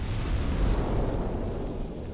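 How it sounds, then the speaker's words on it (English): A big explosion trap goes off in the video game Demon's Souls, a deep, rumbling blast that stays heavy and sustained throughout with no talking. "Once that big explosion comes, it's not going to happen again."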